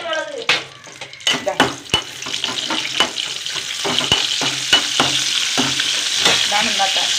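Sun-dried buttermilk chilies fry in hot oil in a pan, a steady close sizzle broken by repeated sharp scrapes and clicks of a spoon stirring against the metal.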